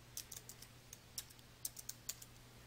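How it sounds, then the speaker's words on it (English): Quiet, scattered keystrokes on a computer keyboard while a formula is entered in Excel 2016, with about eight light clicks in an uneven rhythm and no voice. "Then type an open parenthesis."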